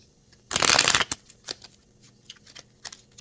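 Tarot cards riffle-shuffled in one loud, dense burst lasting about half a second, followed by a few scattered soft card flicks and taps close by, with no talking.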